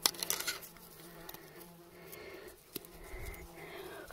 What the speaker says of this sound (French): Vous entendez les mouches, hein?